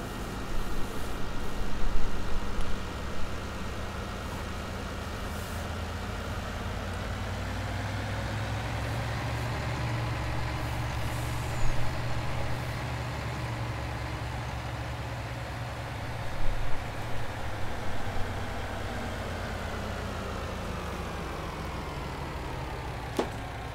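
Video game truck engine idling and rumbling steadily at low volume, with a couple of brief hissing air-brake releases and small clunks breaking through the drone.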